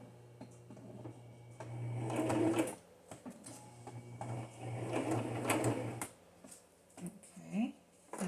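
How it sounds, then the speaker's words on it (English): Sewing machine stitching through a cardstock journal cover, two bursts of rapid whirring stitches with a low motor hum, separated by short pauses, close and moderately quiet, with small clicks and handling noises. "So let's sew."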